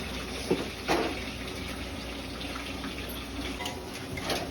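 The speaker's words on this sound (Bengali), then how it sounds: "সেই পরিমাণে দেখো ব্যারেল ধরে জল চলে আসছে" Water streams steadily from a tap into a pot for making dal, a continuous rushing pour with a couple of small splashes near the start, close and fairly loud, with no talking.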